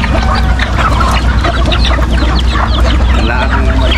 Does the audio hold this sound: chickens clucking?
yes